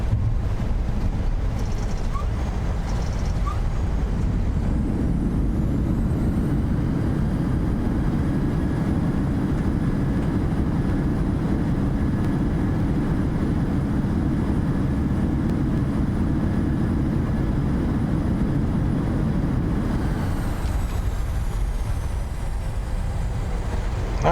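A PMDG Boeing BBJ airliner lands at Paine Field in Microsoft Flight Simulator, with a steady, loud broadband engine and airflow rumble that swells after a few seconds, holds, then drops away near the end.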